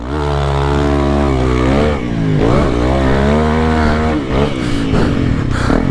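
Honda CRF300L motorcycle engine, loud and close, its pitch sweeping up and down in repeated revs with short dips between, heard alone without talk.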